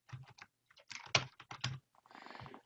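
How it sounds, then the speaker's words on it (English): Someone types a chat message on a computer keyboard during a Zoom meeting, with close, uneven bursts of key clicks and a denser clattering run near the end. "Whatever I type in this message box at the bottom will be displayed"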